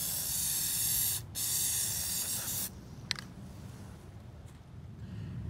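Plasti Dip coating sprays from an aerosol can onto a Chevy Camaro in two loud, close hissing bursts separated by a brief pause, then quieter surroundings with a few faint clicks.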